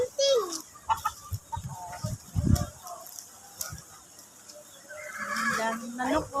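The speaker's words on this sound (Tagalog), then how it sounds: "Daming manok, oh. Daming manok dito." Chickens cluck and crow in a wooded outdoor area, with a rooster-like call near the end; people talk intermittently over the birds.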